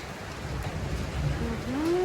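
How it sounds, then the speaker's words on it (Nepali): Rain mixed with hail falls steadily in Kathmandu during an afternoon hailstorm, a continuous dense patter that swells slightly toward the end, with a faint voice briefly audible. "पानी र असिना बराबरै आछ"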